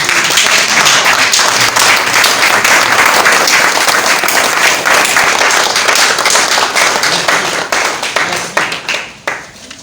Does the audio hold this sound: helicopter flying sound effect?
no